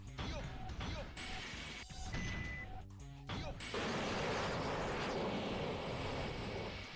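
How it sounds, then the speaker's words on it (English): An airplane enemy is destroyed in Sonic Adventure 2 Battle, a bright crashing burst that breaks into a long noisy rumble, set among earlier game effects and chimes. "I killed one of the airplanes?"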